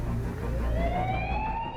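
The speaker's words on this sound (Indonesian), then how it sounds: "Permisi, mobil damkar mau lewat." A fire truck siren wails loud and continuous, its rising tone sweeping upward for nearly two seconds over a steady low rumble of traffic, with no voices.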